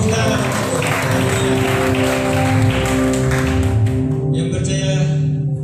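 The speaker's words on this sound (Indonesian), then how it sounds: "Tepuk tangan." Congregation applauding at a Sunday worship service, steady loud clapping from a crowd filling the space over a sustained keyboard or music backing, fading near the end.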